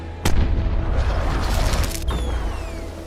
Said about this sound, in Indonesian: Tanpa pandang bulu, dia menembakkan meriam, membuat Po dan kawan-kawan terpental ke sungai bersama serigala yang lain.